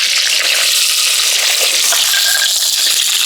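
Small onions sizzle loudly in hot sesame oil in a clay pot with mustard seeds, fenugreek and pepper, a steady, close, dense hiss with faint stirring.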